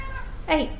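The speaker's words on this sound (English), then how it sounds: "that's my cat saying it's time for her to have her afternoon tea" A single short cat meow, rising then falling, heard close after a brief spoken word.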